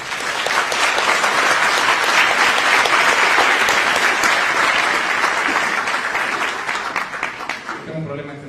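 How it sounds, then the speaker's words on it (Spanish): Loud, sustained audience applause at a university conference for the day's speaker, dense clapping filling the room for about seven seconds before thinning and tapering off at the end. "Pido de ustedes un fuerte aplauso para nuestro brillante ponente el día de hoy."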